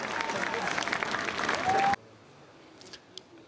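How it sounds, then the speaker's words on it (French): Audience applause at a race award ceremony, dense sustained clapping for nearly two seconds, then cutting off abruptly to a quiet room with a few faint sounds. "Vous pouvez les applaudir, Jérémy et Vincent"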